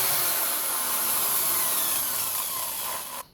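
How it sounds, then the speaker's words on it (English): A small homemade rotary tool built from a DC motor drills into the center of a metal beer cap, a steady close high-pitched whine with grinding that cuts off abruptly at the end. "now let's drill in the very center of our beer cap"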